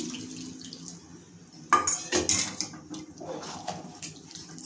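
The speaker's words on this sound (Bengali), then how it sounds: "আর একটু জল দেব আমি।" Water is poured into a banana-flower curry cooking in a pan, making a close splashing gush with a clink of the vessel, then softer trickling and bubbling.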